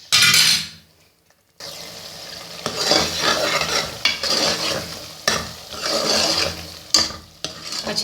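Minced meat and potatoes being stir-fried in a pan, with loud close sizzling and repeated scraping stirs in bursts after a brief pause near the start, along with occasional light clinks of a spoon.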